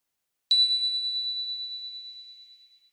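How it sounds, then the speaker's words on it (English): A single small bell is struck once and rings out, a pure bright tone decaying slowly into silence. "And the tiny bell that rings like this?"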